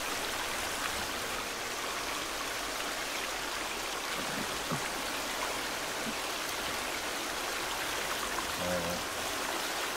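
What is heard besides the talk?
waterfall rushing in The Forest video game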